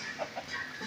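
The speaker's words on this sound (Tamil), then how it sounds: "இதெல்லாம் எங்கள் வீட்டு கோழிங்க." Country chickens raised at a home cluck nearby in soft, short calls over a steady background hiss.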